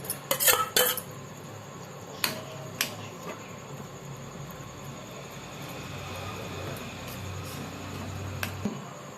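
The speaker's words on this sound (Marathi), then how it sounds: "आता आपण त्यामध्ये काजूगर आणि पनीर घालून ढवळणार आहोत." Cashews and paneer are stirred into a curry mixture for kaju paneer. A cluster of bright metallic clinks comes first, then a few scattered spoon taps over a steady low rumble from the stove.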